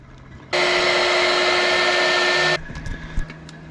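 A pink heat gun roars on at once at close range and blows steadily for about two seconds on heat shrink over crimped cable connectors, then cuts off, leaving faint handling clicks.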